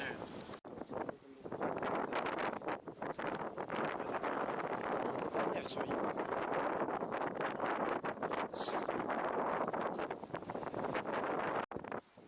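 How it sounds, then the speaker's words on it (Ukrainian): Strong wind roars steadily across the microphone while riding a Kovi Lite 250 motorcycle, a constant loud buffeting rush with occasional gusts, no clear voices. "Ох і вітер, кошмар."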